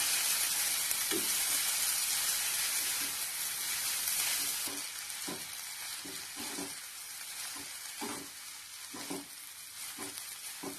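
Pumpkin sizzles in ghee in a pan for halwa, a bright continuous frying hiss that eases after a few seconds while a spoon stirs with regular soft scrapes and knocks.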